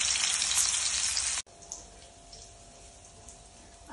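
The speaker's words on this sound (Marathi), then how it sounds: "एक साईडने फ्राय झाले तर साईड चेंज करून पण फ्राय करून घेऊया." Prawns sizzle and fry loudly in a pan, a bright, dense crackle heard up close. The crackle cuts off abruptly after about a second and a half, leaving only a faint, quiet background.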